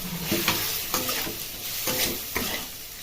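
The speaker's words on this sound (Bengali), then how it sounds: "কুচনো গাজরটা দেওয়ার পর একটু ভালো করে ভেজে নিতে হবে।" Chopped carrots and chilli fry in a pan, giving a soft continuous sizzle broken by repeated scraping strokes of a spoon stirring the mixture, fairly quiet and close, with no voices.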